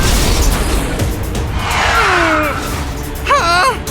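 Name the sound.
steel cannonball fired, cartoon explosion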